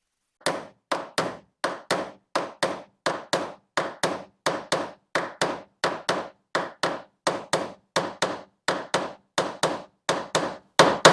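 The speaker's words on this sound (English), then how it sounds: "then I can hammer in those end pieces that I just showed you" Steady series of about thirty sharp, light hammer taps driving end pieces into the track guides of a Mustang convertible top mechanism, evenly spaced and close, with no talk.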